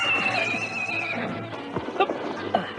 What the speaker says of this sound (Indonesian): Kuda tunggangannya itu besar dan kuat.